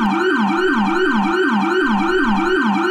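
A police car siren wails continuously in a fast, regular up-and-down sweep, loud and close for the whole stretch with nothing else audible.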